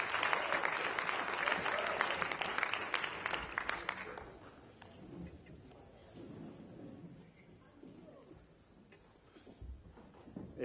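An audience in a hall gives a round of applause for speakers on stage at a writers' festival, loud clapping at first and then thinning into scattered claps.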